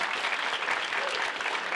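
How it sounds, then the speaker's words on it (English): A room full of guests at a Bury AFC end-of-season football club awards night breaks into loud, dense, continuous applause that holds steady throughout with no pauses. "Round of applause, please."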